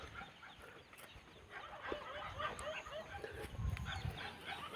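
On a farm field, a dog barks in short, moderately distant bursts, with chickens clucking faintly in the background.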